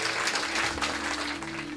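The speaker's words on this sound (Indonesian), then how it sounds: "Yang belajar tepuk tangan yang meriah buat Tuhan" A congregation at a church sermon breaks into applause for God, giving dense, steady clapping from many hands that fills the room, loud and sustained throughout.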